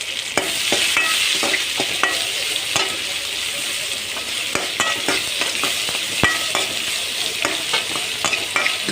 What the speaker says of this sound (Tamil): பெரிய வெங்காயம் கட் பண்ணி வச்சுருக்கோம் இல்லைங்களா அதை போட்டுக்கோங்க பெரிய வெங்காயம் வதங்கட்டும்